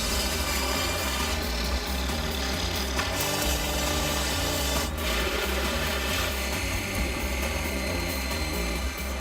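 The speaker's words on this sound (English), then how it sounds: "It takes 5 hours of hand-numbing sawing to slice the supersized garage free." Hand saw rasping steadily through the timber structure of a supersized wooden garage attached to a 97-foot manor house, a continuous dense grinding that runs throughout with no talk.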